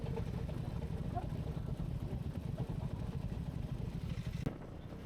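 Royal Enfield Classic 350 motorcycles idling and rolling through a water crossing among pine trees during monsoon, a low steady engine rumble with faint clatter and one sharp knock near the end.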